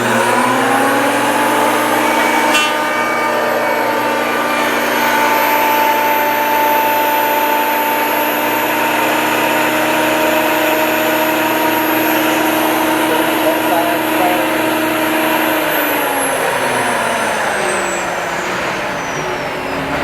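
A Makita 2012NB power planer whirs loudly and steadily with a high whine for most of the stretch, then winds down near the end.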